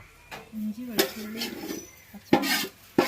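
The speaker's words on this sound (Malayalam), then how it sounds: "വാട്ടിയ ഉള്ളി ഇതാ പാത്രത്തുനിന്ന് ഊറ്റിയിട്ട് മാറ്റി വയ്ക്കുകയാണ്" Metal pot and utensils clank and scrape as sautéed onions are drained from a pan for biryani, with several sharp clinks and bumps among softer stirring and rubbing sounds.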